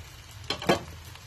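Paratha sizzling in a little cooking oil on a hot pan, with a couple of short crackling bursts standing out over a low, steady fry.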